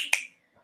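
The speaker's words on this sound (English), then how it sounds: "I'm snapping right now. You can't see that. But snapping, that's great." A single crisp finger snap, close and clear, followed by a faint trailing sound and silence.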